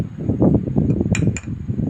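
A glass cup, not plastic, clinks a couple of times as it is handled, with short bright taps standing out over a steady low rustle and background noise.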